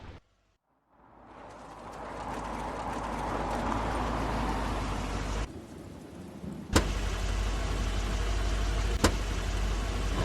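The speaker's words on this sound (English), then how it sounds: "That's Crane's car." Car pulling up in the video game The Wolf Among Us, a steady engine rumble that builds in after a moment of silence and holds loud and close, with a couple of sharp thumps partway through.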